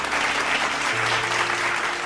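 A church congregation claps together during a Tamil sermon, forming a dense, steady burst of applause that fills the room at fairly loud volume.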